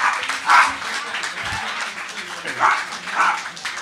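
A crowd of people barking like dogs in place of applause, several loud bursts of mimicked woofs mixed with clapping and cheering.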